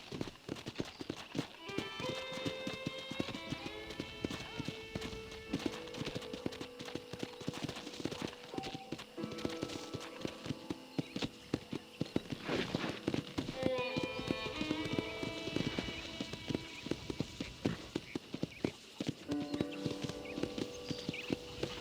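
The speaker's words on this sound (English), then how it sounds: "let's see if you can still ride a horse" Horse hooves clip-clop in a rapid, steady rhythm with occasional whinnies in the video game Red Dead Redemption, under background music and a speaking voice.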